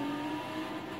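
Lego Porsche 911 driving in the racing game Forza Horizon 4, a steady, sustained engine drone holding at a constant pitch with no voices over it.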